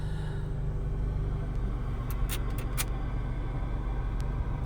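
A 2020 Mercedes-AMG CLA 35 sits idling with a steady low engine rumble heard from inside the cabin, accompanied by a few brief faint clicks.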